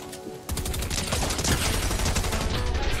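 Rapid automatic fire from a new SMG in Fortnite, a loud continuous burst of closely spaced shots starting abruptly and holding steady for nearly three seconds, no talking.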